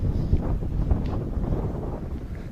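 Wind buffets an open hilltop monument above the town of Shumen, Bulgaria, a steady loud rumble of gusts pressing on the microphone without a break.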